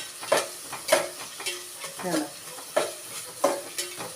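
Masala fries in a pan while a spoon stirs it in regular scraping strokes, each pass making a rasping swish over a soft background sizzle, close and without talk.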